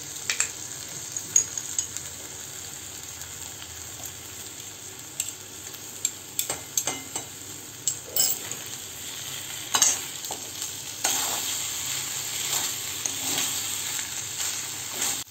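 Banana blossom curry fries in ghee in a pan, with a soft continuous sizzle broken by the irregular scraping and tapping of a spoon stirring it.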